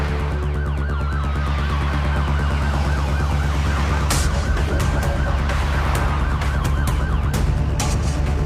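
Ambulance siren wailing loud and continuous in a rising-and-falling pattern over a rumbling vehicle engine, with sharp clattering bursts joining in during the second half.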